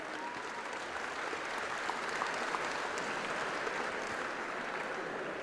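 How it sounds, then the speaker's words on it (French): Steady, dense applause from a salon audience greeting the champion trotter Bold Eagle, guest of honour at the 2025 show, filling the room evenly throughout with no voices over it. "Sous vos applaudissements"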